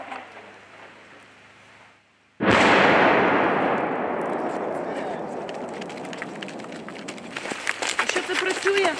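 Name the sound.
mortar fire on the battlefield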